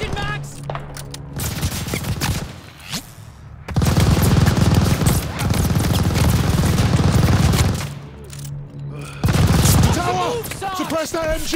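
Sustained machine gun fire and other gunfire from the World War II shooter Call of Duty: Vanguard, loud and dense in long bursts with short breaks and booming impacts, while game voices call out in between.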